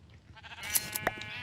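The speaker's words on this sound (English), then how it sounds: "Whole bunch of naked sheep." A sheep bleats in the video game Minecraft, one short, wavering bleat, fairly faint, over a quiet background with no talking.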